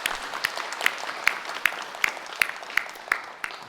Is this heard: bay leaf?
no